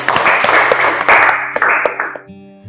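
A classroom of students claps for a classmate, a dense burst of applause that fades out toward the end, with voices mixed in.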